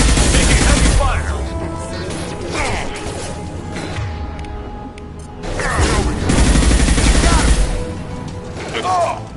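Heavy gunfire from the video game Mass Effect 2 on Insanity difficulty, loud sustained bursts with crashes and booms that swell, ease off mid-clip, then return, with voices talking over the action.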